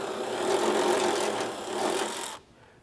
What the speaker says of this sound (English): So we'll start by taking this bolt out.